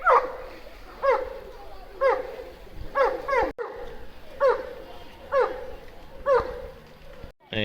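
A Newfoundland rescue dog tied up beside a lake barks and whimpers in a steady rhythm, with about eight short, close, repeated yelps and whines in a row.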